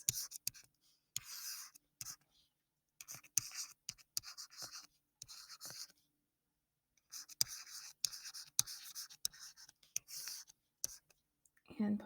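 Pen scratching out chemistry notes for a limiting-reactant problem, a series of short, soft scribbling bursts separated by quiet gaps, faint and close.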